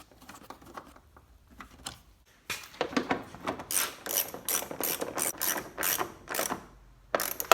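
Rivets and bolts being fitted on a 2010 Hyundai Accent bumper: near, loud ratcheting clicks in rapid bursts after a quiet start, with sharp mechanical snaps toward the end and no talk.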